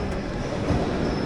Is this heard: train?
yes